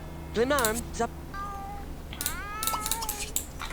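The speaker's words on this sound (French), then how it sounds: "Et en plus, tu miaules." A stray cat in a video game meows twice in rising and falling tones, then gives a longer run of meows, under and between someone talking nearby.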